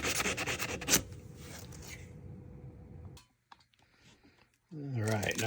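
Sandpaper rubs briskly over a new boys axe handle with shellac being stripped, a rapid scratchy rasping close by, then a pause with faint clicks before a voice speaks at the end.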